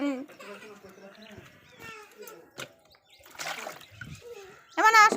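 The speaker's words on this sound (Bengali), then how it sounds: "মুখটা ধুয়ে দিই দাঁড়াও মুখটা ধুয়ে দিই" Water splashes in short bursts as a child's face is washed, with someone talking and a young child babbling throughout; the louder splashes come near the end.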